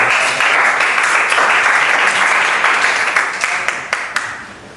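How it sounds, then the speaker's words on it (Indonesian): A classroom of students applauds during a lesson: dense, steady clapping from many hands, loud and sustained, then thinning out and fading toward the end. "Tepuk tangan."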